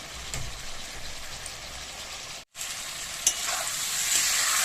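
Ground spices sautéed slowly in a pan on low heat for a fish curry, a continuous close sizzle with light stirring scrapes and a brief cut midway, no talking.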